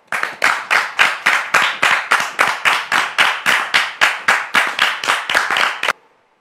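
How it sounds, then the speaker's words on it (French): A studio audience at a televised show claps in steady, rhythmic unison, about twenty loud, evenly spaced beats that stop abruptly into silence. "Sous vos applaudissements."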